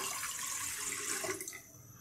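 About a litre of water poured into a pot for boiling potatoes, a short splashing gush that tapers off after a second and a half, close and fairly quiet.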